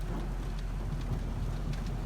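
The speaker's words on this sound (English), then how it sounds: "It's raining in the desert, really, so that was the weird thing for me." Steady rain falls during a storm in the Nevada desert, a continuous wash of drops with a low rumble beneath, heard alone without voices.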